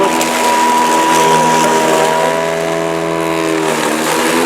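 A Toro 60V Flex-Force cordless 21-inch lawn mower runs loud and close, its steady motor whine straining and rising in pitch as it pushes through thick, high grass.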